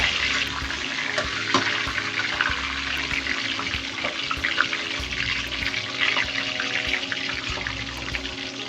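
Ginger dropped into hot oil in a pan, giving a loud, sustained hiss and crackle that runs throughout, close up, with no voice over it.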